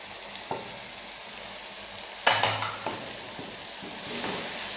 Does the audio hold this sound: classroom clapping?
no